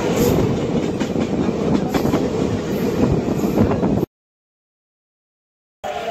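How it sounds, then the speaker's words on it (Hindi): Rajgriha Express train rolling near Harnaut station, a loud close rumble of wheels on rails with faint rhythmic clacking and a high hiss, cut off abruptly, then resuming briefly after a silent gap. "हमारी ट्रेन पहुंच चुकी है हरनौत"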